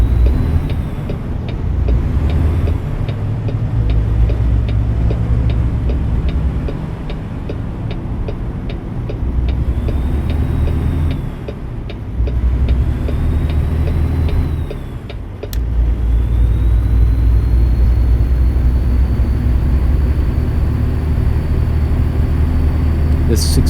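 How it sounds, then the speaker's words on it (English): A 625 hp Cummins diesel truck engine in American Truck Simulator drones loudly and steadily as it climbs hills on a Washington freeway, with a low rumble and brief dips in level, and someone talks over it. "This 625 horsepower Cummins diesel electric motor is pretty powerful for going up the hills now."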